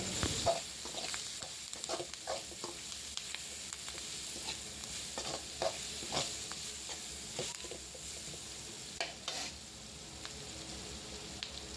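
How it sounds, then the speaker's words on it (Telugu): Curry leaves frying in hot oil and being stirred, a soft continuous sizzle broken by scattered crackles and utensil scrapes against the pan, fairly quiet and close. "కరివేపాకు వేసుకున్న తర్వాత ఒకసారి కలుపుకోండి"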